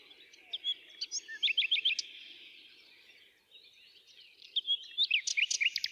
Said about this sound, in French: Oh, écoutez tous ces oiseaux.